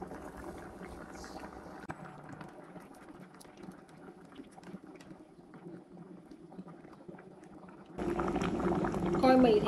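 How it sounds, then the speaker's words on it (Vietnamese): A pot of Vietnamese cassava sweet soup bubbles on the stove, a soft, steady simmering burble heard close, ending in a louder burst of kitchen noise. "Cái nồi chè khoai mì đang sôi lên cả nhà"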